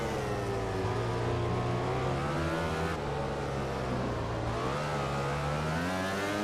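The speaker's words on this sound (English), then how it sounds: "I can hear bikes behind me." Motorbike engines in the racing game MotoGP 15 whine continuously, the high-pitched drone rising and falling with throttle and gear changes, loud and unbroken throughout.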